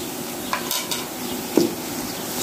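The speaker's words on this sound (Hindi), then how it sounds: "तो अभी इसमें डाल रहे हैं अदरक लहसुन का पेस्ट।" Ginger garlic paste hits a pan of lightly fried onions while cooking qeema matar, giving a moderate sizzle with stirring scrapes and a couple of soft pan knocks.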